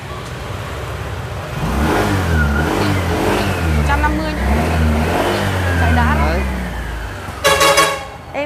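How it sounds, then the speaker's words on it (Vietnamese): A motorcycle engine starts and revs up and down several times, loud and close, with a brief sharp burst near the end. "chị lấy chìa khóa để nổ máy cho quý anh chị mình nghe nha"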